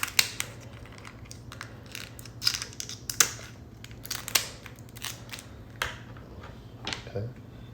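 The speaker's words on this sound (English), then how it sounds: "we're gonna cut him out his shell" Kitchen scissors snipping through a lobster's shell, a series of sharp close cuts and crunchy cracks at irregular intervals over quiet background, with faint indistinct voice.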